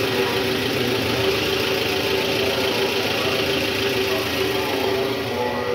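A Toyota Vellfire engine idles with a broken mount and a damaged balancer, a steady close rumble with a faint vibrating knock running evenly throughout.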